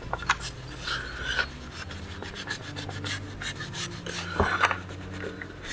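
Gauze compress rubbed against a handheld game console screen, a WonderSwan or Game Boy Pocket, to scrape off old glue: close, dry rasping strokes in an irregular rhythm, with one sharper scrape near the end and no voices.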